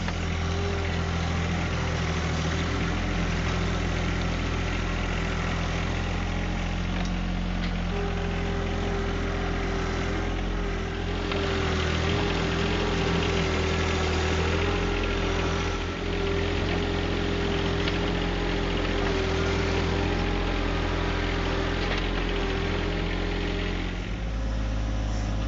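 A John Deere 1025R compact tractor engine runs steadily and loud throughout, a constant mid-pitched drone with a whining tone, while the machine works with its backhoe and bucket clearing ground near a house.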